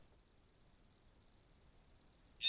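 Crickets chirp in open grassland, a fast, even pulsing trill repeating steadily throughout, fairly close and clear against a quiet background.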